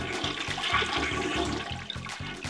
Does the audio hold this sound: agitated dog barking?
no